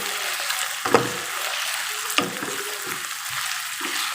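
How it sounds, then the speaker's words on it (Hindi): Chicken with ginger-garlic paste fries in a pan for an aloo chicken curry, giving a steady crackling sizzle broken by a few louder clacks of stirring. "इसको हम थोड़ा सा और फ्राई करेंगे।"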